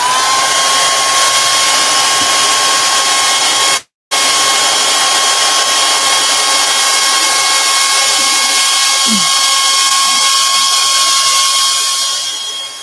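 A dryer runs loud and steady with a constant high whine while drying a craft project for a monster book. It cuts out briefly near the start, then keeps going and fades slightly at the end.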